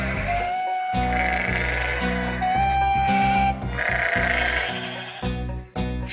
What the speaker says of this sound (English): Sheep grunt.